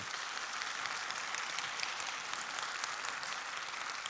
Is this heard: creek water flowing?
no